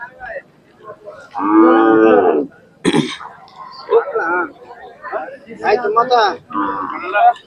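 At the Sangola cattle market in Solapur, a big Khillar cow lets out a long, loud, deep moo, followed by shorter grunting calls and throat-clearing sounds from nearby cattle.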